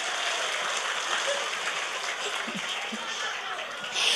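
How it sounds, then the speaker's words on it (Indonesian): Audience applause at an Islamic religious lecture in Rancamulya, Gabuswetan, a steady dense patter of many hands lasting throughout, with voices faintly mixed in beneath. "Tepuk tangan maning."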